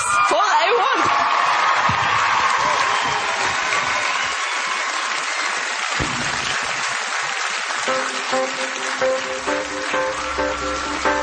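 Loud applause and cheering from a television talent show audience at X Factor 2009, greeting a boy band as they take the stage, with scattered whoops. Music begins to rise under the clapping near the end.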